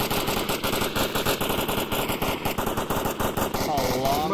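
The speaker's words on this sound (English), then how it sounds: "Partisan shooting right over Tankist's head." Rapid automatic gunfire in the VR shooter Onward, a fast, evenly spaced rattle of shots firing continuously at close range, loud throughout with some voice underneath.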